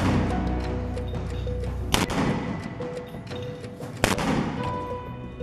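Hamas fighters launch rockets and 60-caliber mortars: two sharp, booming blasts about two seconds apart over a steady background rumble.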